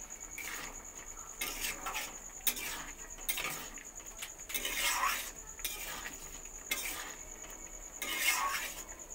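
A spoon scrapes and clinks against a pot as fried, ground spice mix is stirred into vegetarian ghugni, a series of soft, irregular strokes and taps, faint and close, with no talk.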